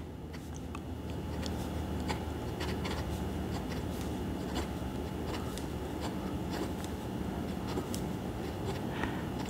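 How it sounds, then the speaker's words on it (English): A Cross Bailey Light fountain pen writes on paper in a faint, continuous scratchy rub, close to the microphone, with small tick-like nib strokes scattered through quiet room noise and no talk. "this one seems to write a little bit more quietly"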